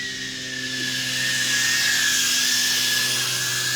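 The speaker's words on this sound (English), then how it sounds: "These 5-bladed gem fan props have a different sound profile." An FPV drone on 5-bladed Gemfan propellers whines in a steady high buzz while flying, swelling slightly louder midway, with a constant motor tone underneath and no voices.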